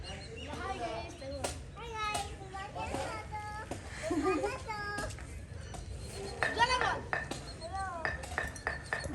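Children play and chatter outdoors in a village while someone cooks nearby, with high excited voices and occasional clinks of pots and cutlery close by.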